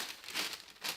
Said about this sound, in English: to line the greaseproof paper I have gotten just an ordinary square, folded it in